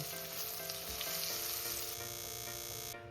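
Potato pieces deep-frying in hot oil until browned, a steady dense sizzle close by with occasional bubbling pops and a faint stir, cutting off sharply near the end.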